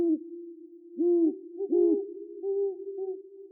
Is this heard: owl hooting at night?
yes